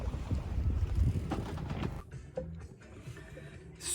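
A sailboat under way in the wind on a slightly swelling sea, with steady rushing wind and water noise buffeting the microphone, easing off midway before gusting up again.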